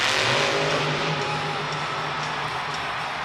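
A Monster Jam truck named Vendetta revs its engine through a backflip at a stadium event in Arlington, a loud steady roar with a low rumbling tone under broad crowd and arena noise, no talk.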